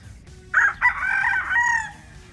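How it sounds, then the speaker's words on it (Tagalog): Golden Boy, a gamecock brood stag, gives a single loud cock-a-doodle-doo crow lasting over a second, close by, over a low background hum. "Ito yung brood stag natin na Golden Boy na gagamitin mga paps."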